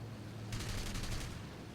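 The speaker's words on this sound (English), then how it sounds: "So one of my first shots kills one of his gunners." In-game machine gun fire from a BF-109 at an HE-111 bomber in War Thunder, a short rapid rattling burst of about three-quarters of a second over a steady low engine drone, with no talking.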